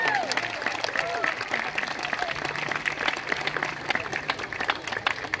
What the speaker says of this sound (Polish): Słuchajcie, brawa jeszcze raz i zdjęcie naszych siostrzyczek.